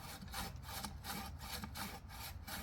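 Hand saw cutting through tree branches during pruning at a house in New York, a steady back-and-forth rasp of repeated strokes, close and fairly loud, with no talk.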